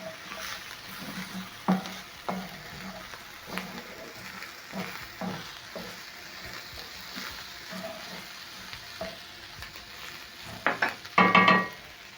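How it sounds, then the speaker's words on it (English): Minced meat and carrots tossed together in a pan, with scattered scrapes and clanks of a utensil over a soft sizzle and a louder clatter near the end. "Toss everything together."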